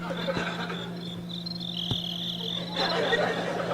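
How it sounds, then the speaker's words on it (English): A novelty noise-making device plays a steady, shrill cricket chirp that runs through the whole stretch at moderate level, with a couple of sharp knocks and some room noise around it. "I brought the noise-making device that I use at Meltdown Comics to calm the crickets"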